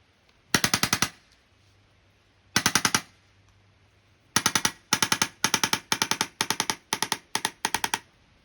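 A 2005 Bakail Drodz CO2-powered paintball marker firing in rapid bursts, sharp close pops grouped into a few short volleys and then a longer run of quick strings, with quiet gaps between.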